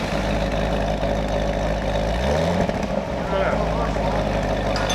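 Aftermarket exhaust on a 2019 Cadillac CTS-V idles with a steady low rumble throughout, a slight rise in tone midway, with a person talking over it.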